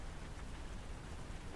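Steady rain falls on a tin roof as a soft, even hiss of countless small drops, faint and unbroken, with no voices.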